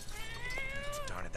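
A cat meows in South Park: The Fractured But Whole, a drawn-out wavering cry mixed with game sounds and a voice talking over it.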